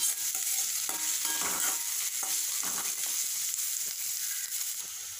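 Onion and two chopped green chillies fry in a pan for broccoli butter masala, with a close, hissing sizzle and several brisk stirring scrapes early on before the sound settles into a gentler fry.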